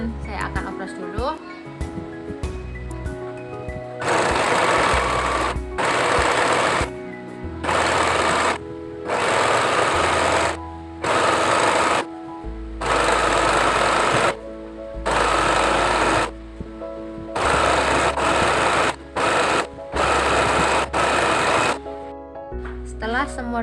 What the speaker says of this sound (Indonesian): Setiap sambungan saya akan opras dulu